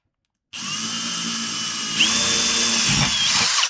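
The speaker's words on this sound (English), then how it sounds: "Got all those pre-drilled." A power drill pre-drills holes in a toolbox being built into a boom box, whining up sharply after silence and running steadily for about three seconds close by, its pitch shifting slightly as the bit bites.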